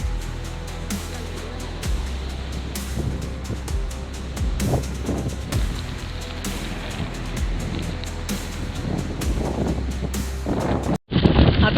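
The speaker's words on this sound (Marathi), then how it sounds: "या व्ह्यू पॉइंटच्या इथे पोहोचल्यानंतर सुद्धा आम्हाला जोराचा वारा आणि धुके दिसत होते" Strong wind buffets the microphone at a foggy jungle view point near Malshej, a continuous loud rumbling roar with gusty surges throughout and a brief dropout near the end; no talking.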